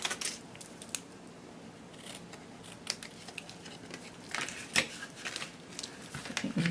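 Scissors snip through paper trim for a stamped card project, a few faint, sharp cuts scattered among soft rustling and handling noises at close range, with no talk.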